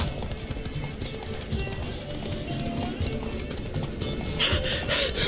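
Roach the horse gallops in The Witcher 3 video game, a continuous fast drum of hoofbeats, close and fairly loud, with a brief scrape or splash of extra noise near the end.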